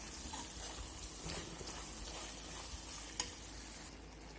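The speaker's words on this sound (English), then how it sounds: "And then mix it thoroughly." Bitter gourd with spice powder stirred in a pan, a soft, low-level sizzle with gentle scraping and one small tap near the end, faint and close.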